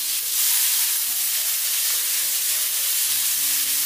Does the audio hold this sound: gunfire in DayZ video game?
no